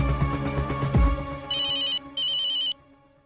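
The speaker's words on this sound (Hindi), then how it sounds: "जेठालाल का फोन?" An electronic phone ringtone plays two bright, steady bursts after a brief bit of other sound, loud and close.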